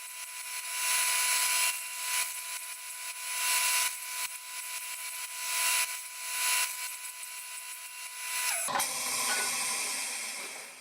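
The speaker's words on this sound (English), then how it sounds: "I'm using my small table saw sled to do this job easily" A small table saw with a sled cuts a series of slots in wood, each pass a loud steady whine rising and falling in repeated strokes, then the blade spins down and stops near the end.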